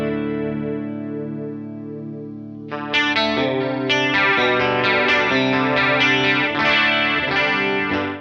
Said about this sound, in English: Now the Modify will control the chorus depth,